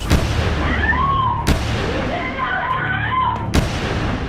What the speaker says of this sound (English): The alarmed operator can hear gunfire in the background.